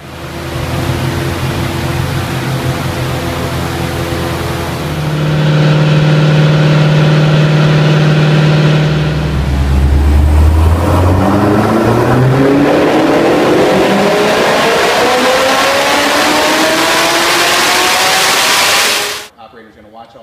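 Supercharged car engine with a custom tune, roughly 610 wheel horsepower, runs on a dyno: a loud steady idle, then a long rising rev sweep climbing in pitch until it cuts off abruptly near the end.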